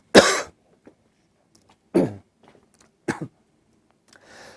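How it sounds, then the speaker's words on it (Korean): Three separate close coughs from a lecturer in cold weather, with short pauses between them, followed by a faint breathy sound. "날씨가 추워가지고 이제 기침들이 좀 나와요"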